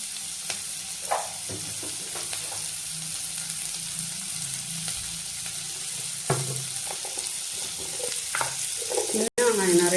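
Steady sizzling of small onions frying in a pan with salt and turmeric for Chettinad sukka, with occasional stirring scrapes and light clatter throughout.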